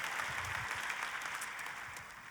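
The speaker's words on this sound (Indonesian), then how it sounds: "Tepuk tangannya yang paling meriah" A congregation claps during a church service, a steady wash of applause holding at an even level throughout, with no voices standing out.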